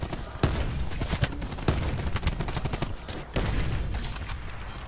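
Rapid gunfire from Call of Duty Black Ops 4, a burst of loud, sharp shots fired in quick irregular succession with a few heavier cracks standing out, close and dominant with no talk.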